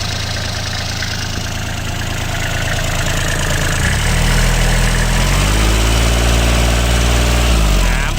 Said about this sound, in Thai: เดี๋ยวเรามาดูทางด้านของเครื่องยนต์นะครับ มาดูทางด้านของเครื่องยนต์